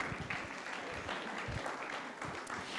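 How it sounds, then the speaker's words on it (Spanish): An audience at a religious gathering gives a steady round of applause, continuous moderate clapping with a few soft voices mixed in. "Un aplauso."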